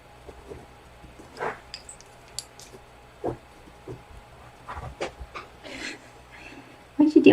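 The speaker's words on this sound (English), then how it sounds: "You're a silly dog." A pet dog pants softly in short, irregular breaths close by, with a few small snorts and whimpers and a louder burst near the end, while a person talks quietly in the room.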